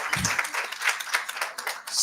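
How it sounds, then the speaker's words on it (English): A seminar audience claps for about two seconds, a brief burst of applause with a lively patter of many hands. "A round of applause, please."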